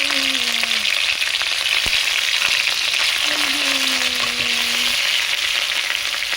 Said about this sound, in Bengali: দিয়ে দেব কালো জিরে ফোড়ন, ওর মধ্যে দিয়ে দেব পেঁয়াজ বাটা,